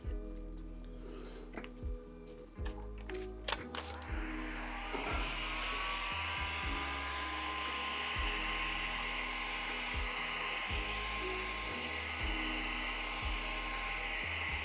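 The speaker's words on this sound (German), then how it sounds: "Föhnen, föhnen und föhnen." A hair dryer runs steadily at close range, heating a rubber steering-wheel ring during a steering wheel grip replacement, with a continuous whining hum and intermittent clicks and handling noises.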